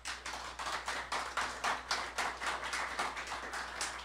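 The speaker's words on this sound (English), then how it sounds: "just start clapping" A small audience claps in a lab setting, a steady rhythmic run of hand claps at roughly even pace, fairly close and moderately loud, with no talking over it.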